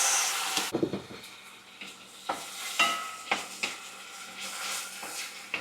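Fried pork being stirred in a pan with a little water and chop suey mix powder, a soft sizzle running under repeated spoon scrapes and knocks, close and fairly quiet.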